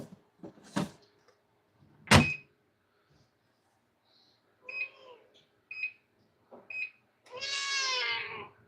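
A house cat meows several times, short chirpy calls ending in a longer, drawn-out meow, heard close up in a quiet room with a few sharp knocks or bumps early on.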